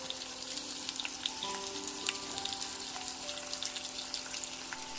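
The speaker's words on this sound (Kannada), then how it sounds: "ಇದಿಷ್ಟನ್ನು ನಾವು ಎಣ್ಣೆಯಲ್ಲಿ ಚೆನ್ನಾಗಿ ಹುರ್ಕೋಬೇಕಾಗತ್ತೆ." Fennel, cumin, poppy seeds and pepper frying in oil for curry leaves mutton curry, a faint steady sizzle with small crackles and a few light stirring sounds.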